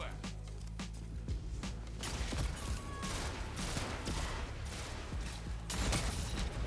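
Rapid pulse rifle bursts fire in a first-person shooter video game, repeated sharp volleys over a dense, loud background, with a player talking over them.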